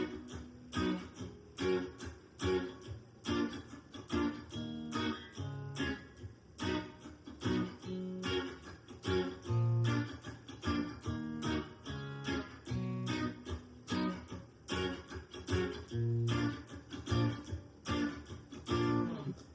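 Rhythmic guitar strumming plays the chorus of a song in a steady pattern of offbeat chord strokes, close and continuous for about twenty seconds, with no talking.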